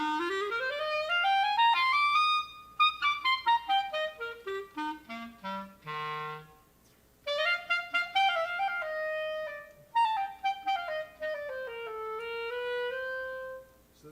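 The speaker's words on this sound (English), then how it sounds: "So that's the sound of the clarinet" A solo clarinet plays a melody alone, with smooth sustained notes that rise and fall, some held long and others played in quick detached runs.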